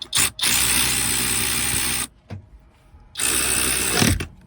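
A SeeSii RT600B cordless ratchet wrench on a Makita battery tightens bolts, giving two long, loud whirring ratchet bursts separated by a brief pause with faint clicks.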